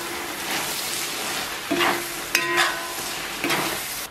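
Pork liver stir-frying in a wok with minced garlic and chopped chives, a steady close sizzle broken by a few scraping stir strokes and spatula clinks, no voices.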